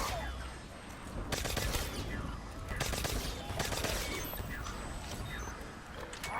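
Repeated bursts of gunfire from the zombie video game Nacht der Untoten, several loud rapid volleys over continuous noisy combat, fairly distant and muffled.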